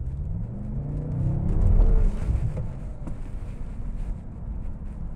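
2014 BMW M5 accelerating on the road, a deep low engine rumble that swells to a peak and then settles, with wind buffeting over it and no talk.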